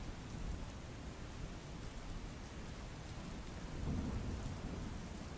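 Heavy rain pours down over a fairground in Wadhwan, Surendranagar, a dense, steady hiss with low thunder rumbling underneath that swells slightly toward the end.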